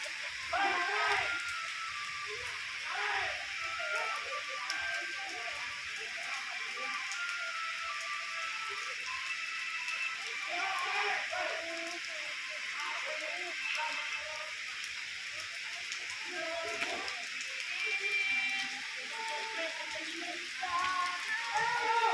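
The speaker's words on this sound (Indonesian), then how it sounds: "Hujan lumayan lebat." Fairly heavy rain falls outdoors during a martial arts training session in South Kalimantan, a continuous hissing patter with scattered drips that stays steady throughout and sits under faint voices.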